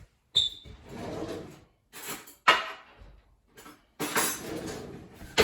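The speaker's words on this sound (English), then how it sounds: "We're gonna stir that around a little bit." Bouillon broth is stirred in a stockpot, heard as several separate bursts of scraping and clinking of a utensil against metal with quiet pauses between them.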